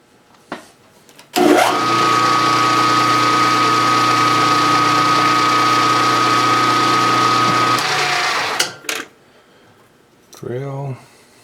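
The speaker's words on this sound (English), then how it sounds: "center drill." A machine spindle runs center drilling a metal governor weight arm clamped in place, a steady whirring hum with a high tone lasting about six seconds before it stops, followed by a brief voice.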